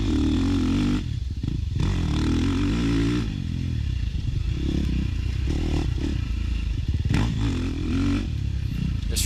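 Dirt bike ripping around a motocross track, its engine revving hard and dropping off repeatedly with rattling clatter, loud and close throughout.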